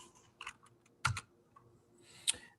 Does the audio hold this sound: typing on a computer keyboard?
yes